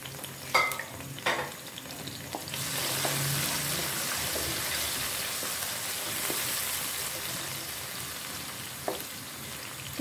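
Steady sizzling of onion, garlic, ginger, tomato and green chilli frying in a pan, with a few clinks and stirring scrapes near the start, continuing loudly and evenly throughout.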